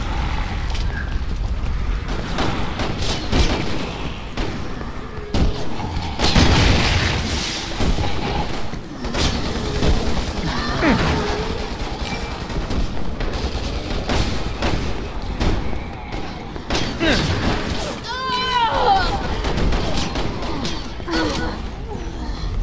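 Repeated gunshots and booming blasts in the game Resident Evil 6, scattered across a long stretch of combat, loud and close, with clanking mechanical noises and brief shouts in between.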